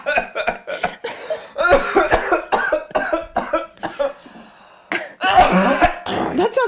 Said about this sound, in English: That sounds like a dry hacking cough.